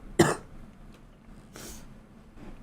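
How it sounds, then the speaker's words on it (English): A single sharp, close cough bursts out, followed by a fainter second cough-like exhale in a quiet indoor setting. "I'm gonna cough."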